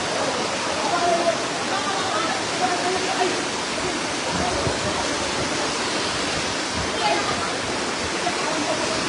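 Steady rushing water flows loud and close during Typhoon Christine in a barangay in Lemery, Batangas, a continuous broadband roar that fills the whole stretch, with faint voices in the background.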